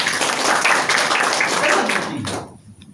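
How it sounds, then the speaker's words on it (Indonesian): A church congregation claps together during a Sunday worship service, dense steady applause for about two seconds before tapering off into quieter room sound. "Berikan tepuk tangan dulu untuk Tuhan."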